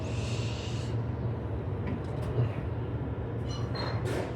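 Interior of a Perth Ellenbrook Line suburban train in motion, a steady low rumble and hum with faint rattles and a brief hiss, continuous and close throughout.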